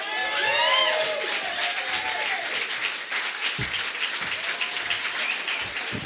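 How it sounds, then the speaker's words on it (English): At a Friday night beer poetry slam, the audience keeps up steady applause after a reading, with whoops and whistled cheers rising over it early on. "Continue your applause now."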